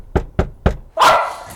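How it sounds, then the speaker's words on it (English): A dog barks three sharp times in quick succession, close and loud, followed by a longer, harsher bark or yelp. "Dogs bark at the doorbell or at the door knocking for a number of reasons."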